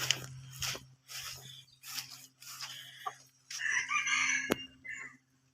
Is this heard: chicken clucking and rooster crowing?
yes